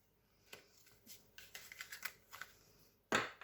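Oracle cards being handled and shuffled by hand, with soft papery flicks and light taps in a quick irregular run, ending in one sharper snap, close and quiet.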